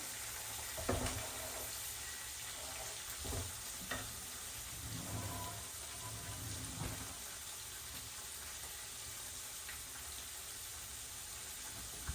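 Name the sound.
onions being mixed in a pan for chitranna gojju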